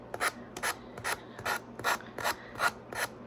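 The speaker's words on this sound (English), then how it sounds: "This is a handy little sander." A small hand sander rubs along the edges of a wooden tabletop decoration, a close, rhythmic rasping in about eight evenly spaced strokes with brief pauses between them.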